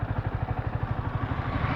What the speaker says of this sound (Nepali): अहिले चाहिँ बाइक स्टार्ट गरिदिएको छु